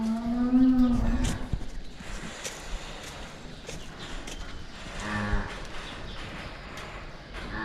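A cow lets out a loud, low moo in a milking barn, then after a stretch of quiet barn noise another cow moos again, slightly softer.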